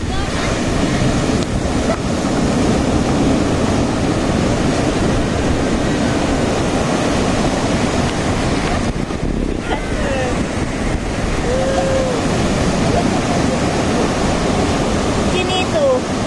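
Ocean surf at Bagasbas beach rolls in loud and constant, mixed with heavy wind buffeting the microphone, while people shout and call out over the roar.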